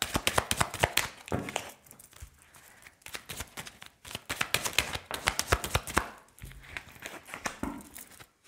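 Tarot cards being shuffled and handled, giving a continuous crisp riffling and flicking of paper in short bursts with brief pauses, fairly close and quiet.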